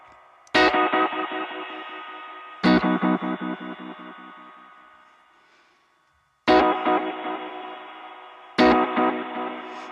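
Distorted guitar chords played through a Boss GT-1000 Space Echo tape echo effect, struck four times, each followed by a string of fading repeats that bounce away rhythmically before the next strike.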